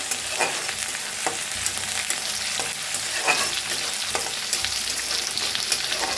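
Crushed garlic and chili fry in hot oil with a bright, steady sizzle, broken by the sharp clatter of a spoon stirring the pan every second or so.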